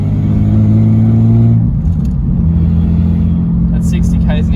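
A car engine held at about 2,500 RPM rumbles loud and close in a steady drone that shifts pitch partway through, filling the cabin with continuous low throb.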